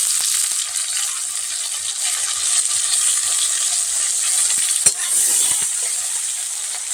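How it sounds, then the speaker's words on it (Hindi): Chopped onion, green chili and tomato fry in hot oil in a pan, giving a loud, continuous close sizzle with a faint stir or clink now and then. No voices are heard. "तो ये भुंजा गया तो अब इसमें डाल दे रहे हैं टमाटर"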